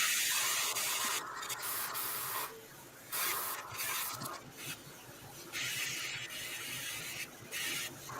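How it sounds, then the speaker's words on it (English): An airbrush sprays paint with a steady, close hiss that cuts out and resumes in short bursts as the trigger is worked. "Hope I don't blow this up because I'm using a bigger airbrush than I normally would."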